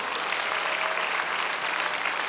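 A crowd at an outdoor prayer rally in a Seoul plaza breaks into brief applause, a dense continuous clatter of many hands at moderate loudness.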